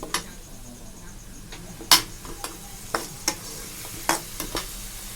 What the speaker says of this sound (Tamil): இதோட பச்சை வாசனை போகிற அளவுக்கு நல்லா கிளறிக்கலாம்.